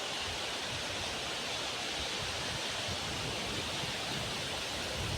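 Floodwater rushing through flooded rice paddies: a loud, steady broadband roar of flowing water that continues without a break and without voices.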